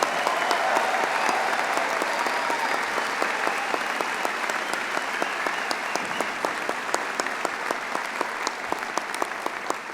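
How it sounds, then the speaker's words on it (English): Large crowd applauding graduates at the University of Calgary spring convocation ceremony, a dense, steady wash of clapping from many hands filling a big hall, sustained loud for the whole stretch with no talk over it. "let's get a nice big round of applause for our graduates today"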